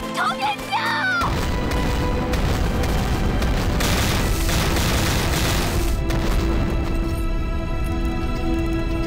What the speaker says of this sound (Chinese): 我们的瓦斯弹全被炸毁了